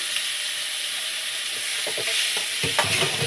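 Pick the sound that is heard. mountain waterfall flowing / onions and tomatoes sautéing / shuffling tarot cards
onions and tomatoes sautéing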